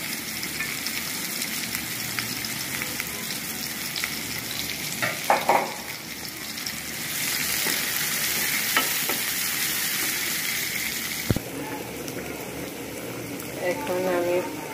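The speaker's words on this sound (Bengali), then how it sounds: "এখন আমি একটু মাংসটা নেড়ে চেড়ে দিব।" Meat sizzles and fries steadily in a hot pan while a utensil stirs it, with scraping, clinking bursts and constant crackling throughout.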